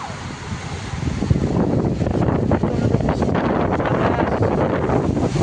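Strong wind gusts roar continuously during a rainstorm, buffeting the microphone with a loud, rough rush that never lets up.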